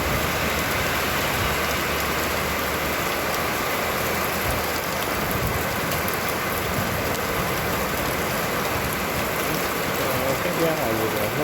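Steady rain pours down on a windy, rainy day as an even, continuous hiss with no breaks, close and fairly loud throughout.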